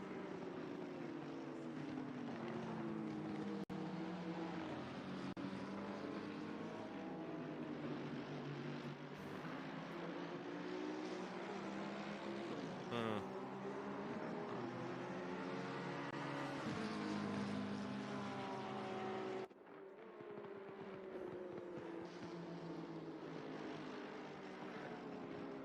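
Race cars in a GT esports race at Silverstone drone steadily with layered, rising and falling engine notes as several cars pass close together through the lap.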